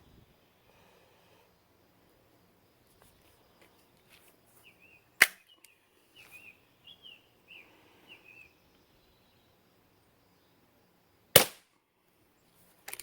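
Two sharp, isolated shots from a Beeman P17 air pistol crack several seconds apart in a quiet backyard setting, with faint birdsong chirping between them and a third crack starting at the very end.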